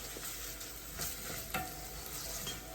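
A pan of frying onions for Nigerian-style bolognaise sauce, cooked over medium to low heat, gives a continuous soft sizzle with faint stirring scrapes throughout and no talk.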